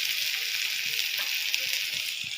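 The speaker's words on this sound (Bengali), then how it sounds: "এখানে উচ্ছে ভাজা হচ্ছে" Bitter gourd frying in a pan gives a steady, even sizzle that hisses on without a break, close by, with no talk over it.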